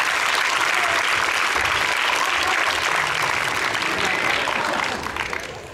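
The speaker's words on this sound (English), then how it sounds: "But I'll give a big round of applause." Audience applause at a Grade 2 and 3 Christmas concert, loud continuous clapping from a full room that stays strong for several seconds and then begins to fade.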